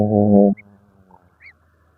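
A goose gives one loud nasal honk up close at the start, followed by faint, scattered bird calls in the quiet of a village yard.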